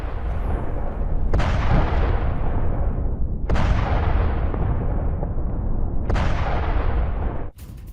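Bombing in Isfahan, Iran, with strikes on the mountains at Najafabad: three heavy blasts, each hitting sharply and rolling into a long, loud rumbling roar that fills the whole stretch, with no voices.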